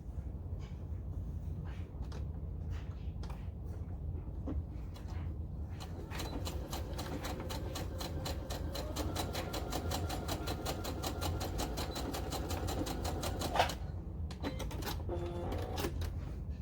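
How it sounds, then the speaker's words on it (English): A sewing machine stitches straight across the fabric ends of a scrunchie in a fast, even mechanical rhythm, with a few short starts before one long steady run. The sound is close, over a low constant hum, with no talking. "we're going to just sew all the way across here"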